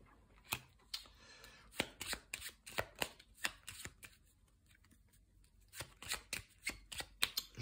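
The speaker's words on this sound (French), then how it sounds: "Donc du coup, on mélange toutes les cartes." Cards from the Tiny Epic Defenders Dark War board game are shuffled by hand, giving a series of crisp riffling and snapping bursts in irregular runs, close and fairly clear, with a short pause in the middle.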